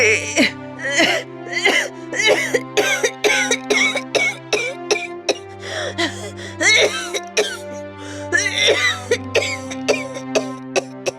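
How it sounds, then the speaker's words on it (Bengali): Repeated wet, raspy coughing from a sick elderly mother character in a Bengali fairy-tale cartoon, a rapid series of harsh coughs and throat-clearing bursts with strained whimpering breaths, loud and close and continuing throughout. "মা কাশিটা আবার বেড়েছে"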